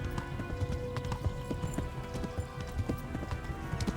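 Horse gallops in the video game Kingdom Come Deliverance, with rapid rhythmic hoofbeats clip-clopping steadily and close, with no pauses.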